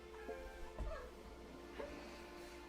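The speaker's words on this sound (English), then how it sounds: "she mews, but she also chirps and trills and stuff" A domestic cat gives a few soft chirping and trilling calls, quiet and close, spaced out over faint room noise with no talking.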